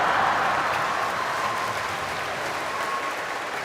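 A church congregation breaks into loud, dense applause during a sermon, a continuous roar of clapping that fades slightly toward the end.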